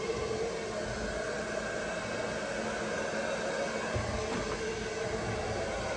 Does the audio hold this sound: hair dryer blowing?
yes